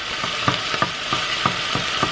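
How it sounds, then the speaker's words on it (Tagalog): Onions sautéing in a hot pan, a steady close sizzle broken by regular scraping strokes of a spatula roughly every third of a second, with no voices. "laging nauuna ang onions sa pag-isa para hindi agad masunog."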